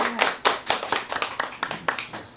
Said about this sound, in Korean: 선생님을 박수로 맞이하겠습니다.